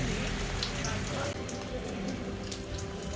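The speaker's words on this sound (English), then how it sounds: "man, it's just downpour" Heavy rain pours down in Amsterdam, a dense, loud, steady hiss of drops pattering on surfaces close by, constant for the whole stretch.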